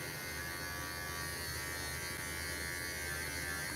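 Bravura cordless clippers trimming a Morkie dog during grooming, a faint steady electric buzz running throughout with no breaks.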